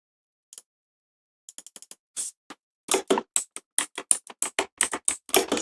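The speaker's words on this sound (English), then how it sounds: "Sorry for the keyboard noise." A computer keyboard clicks in sparse taps at first, then in quick irregular bursts of typing, close and crisp in an otherwise silent room.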